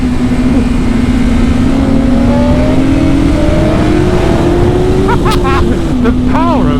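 A 2019 BMW S 1000 RR motorcycle on the road, its engine note droning loud and steady as it pulls and rises in pitch, with wind rush throughout and a voice speaking briefly over it.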